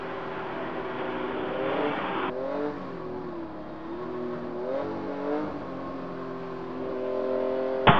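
Porsche race cars, including a 1968 Porsche, run on track at the 2015 Rennsport Reunion, with a loud, steady engine drone whose pitch rises and falls as the cars shift and pass, alone without voices.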